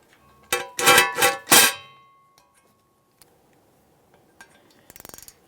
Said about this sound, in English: torque it to 15 foot-pounds.